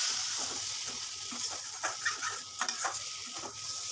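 Spiced curry being stirred and sautéed in a pan on low heat, a gentle hiss under a few soft spatula scrapes clustered toward the end, quiet and close with no talking.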